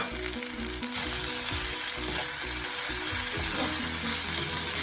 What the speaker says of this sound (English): Let it cook a little bit with the green chili.